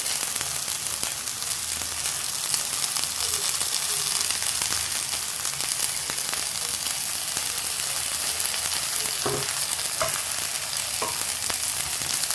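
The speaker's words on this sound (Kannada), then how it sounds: "ಈಗ ಸಣ್ಣದಾಗಿ ಹೆಚ್ಚಿಟ್ಕೊಂಡಿರೋಂಥ ನುಗ್ಗೆ ಸೊಪ್ಪನ್ನ ಹಾಕ್ಕೊಳ್ತಾ ಇದ್ದೀನಿ. ಹಾಕ್ಕೊಂಡು ಫ್ರೈ ಮಾಡ್ಕೊಳ್ತೀನಿ." Finely chopped drumstick leaves fry in a hot pan for a home-style egg bhurji, giving a steady, close sizzle and crackle throughout with a few soft stirring scrapes and no talking.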